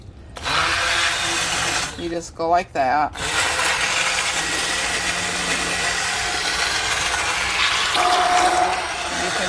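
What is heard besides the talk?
immersion blender blending yellow squash soup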